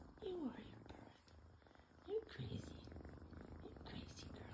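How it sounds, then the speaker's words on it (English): A pet cat purrs softly and steadily at close range, a low, rhythmic rumble under quiet, murmured talk. "You're purring. You're purring."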